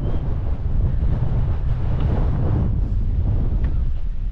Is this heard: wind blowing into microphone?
yes